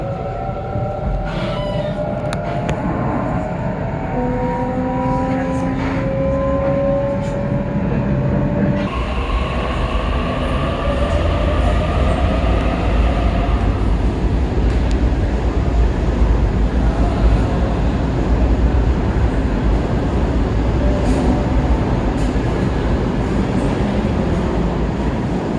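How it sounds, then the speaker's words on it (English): A train speeds through a subway-style station with I-beams on the Bankstown Line, its steady rumbling roar and rattling wheels filling the whole stretch, with squealing wheel tones early on. "Trains can speed through this station at any time."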